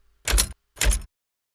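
Heavy duty slider element of the Doom chaingun startup sound from the video game: two weighty metallic sliding strokes about half a second apart, full and close, with a low thump beneath each.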